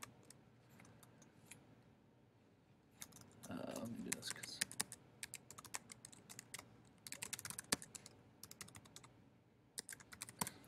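Computer keyboard typing while an email address is entered, bursts of clicky keystrokes in quick runs with pauses, close and moderately loud, with some talking mixed in.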